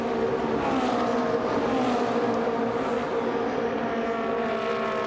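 Ferrari Challenge Trofeo Pirelli race cars at speed on a circuit, their engines a steady, loud, high-revving drone that swells slightly as the cars pass, with no pauses.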